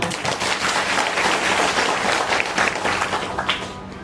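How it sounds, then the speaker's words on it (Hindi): Audience clapping at a religious discourse gathering, a dense, continuous round of applause from a large crowd that swells in the middle and eases slightly toward the end. "आज तालियों में कुछ है, मस्ती नहीं आती तालियों में, जोर से बजाओ जरा"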